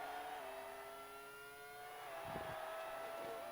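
A race car engine from the N64 game Monaco Grand Prix holds a steady, fairly quiet synthesized whine with shifting pitch throughout, plus a couple of brief low thumps near the end.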